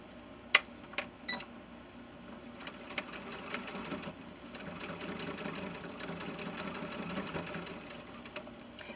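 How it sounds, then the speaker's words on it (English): A sewing machine bastes the side and top edge of a pocket on pants for a 70cm male ball-jointed doll, running steadily close by after a few sharp clicks at the start. "I'm going to baste on the side edge"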